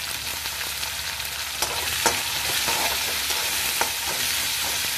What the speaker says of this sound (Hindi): अब मैं इस स्टेज पे इसमें डालूंगी कटी हुई अनियन।